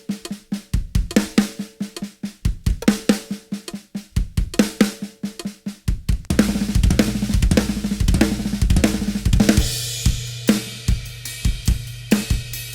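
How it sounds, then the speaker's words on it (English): A close, loud drum kit plays the full paradiddle-diddle sticking with two bass drum kicks tacked onto the end. The pattern cycles in an even groove, then opens into a denser, cymbal-washed stretch with steady kick hits. "let's play the full paradiddle diddle, but add 2 kicks at the end"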